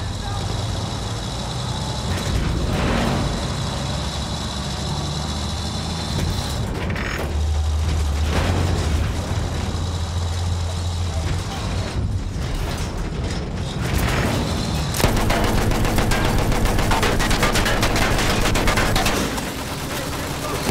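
Battlefield 1 combat with explosions and gunfire, heavy rumbling and mechanical clatter with bursts of shots under ongoing squad voice chat, growing busier and louder toward the end.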